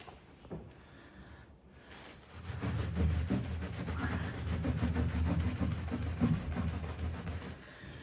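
Soft, steady rubbing of a cloth buffing the original finish on a 17th-century Charles II oak coffer panel, starting faint and then settling into a continuous, even swishing close by.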